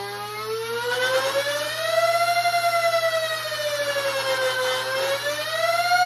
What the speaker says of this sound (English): You can even hear it with the flywheels if you turn on the FPS dial and you gradually turn it